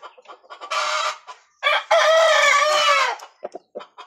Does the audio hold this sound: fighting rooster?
yes